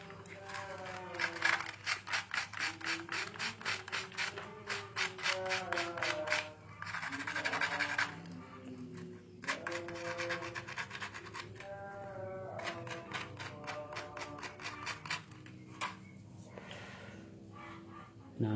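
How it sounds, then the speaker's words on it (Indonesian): Sandpaper rubs rapidly back and forth on the contacts of an old electric fan's switch, a close, rhythmic scratching in repeated bursts, while someone talks over it. "Oke teman-teman, coba kita amplas ya."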